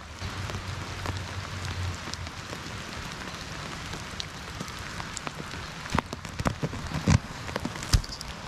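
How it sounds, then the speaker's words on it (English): Freezing rain mixed with a little sleet patters steadily on an ice-covered Litefighter Catamount 2 tent through the night, a dense continuous hiss with a few sharper, louder drops ticking near the end. "Over the course of the night, freezing rain began, and there has been just a little bit of sleet mixed in with it."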